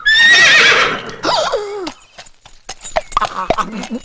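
A horse gives a loud, close whinny with a falling, wavering pitch, followed by a shorter second call and scattered softer noises.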